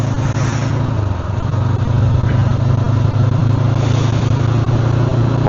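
A Honda NX500 motorcycle touring on a highway near Bangalore around 100 km/h below 5000 RPM, giving a loud steady engine drone mixed with heavy wind rush, with no talk.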